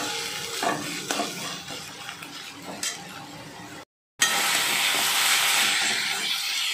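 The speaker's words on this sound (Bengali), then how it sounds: "তার আগে একটু খুন্তি দিয়ে ভালো করে নাড়াচাড়া করে নিচ্ছি।" A metal spatula stirs and scrapes a dry banana flower peel paste in a hot pan, a soft continuous hiss and sizzle with scattered scraping strokes, briefly cut out before resuming steadily.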